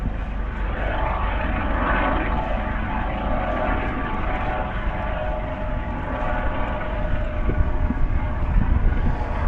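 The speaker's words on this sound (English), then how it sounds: "Helicopter action." A helicopter flies overhead near a coastal lighthouse, a steady, loud engine drone filling the whole stretch, with a throbbing rotor texture and wind buffeting the microphone.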